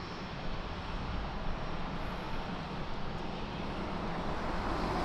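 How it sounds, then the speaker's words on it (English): A small Piaggio Avanti twin-turboprop on final approach at Lisbon Airport, a steady broadband engine roar heard from a distance, continuous and even throughout with wind and ambient airport noise mixed in. "So on final, a beautiful Piaggio. A Piaggio Avanti."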